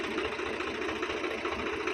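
A steady tractor engine drones and idles close by, a continuous low mechanical rumble with a faint rhythmic knock and no voices.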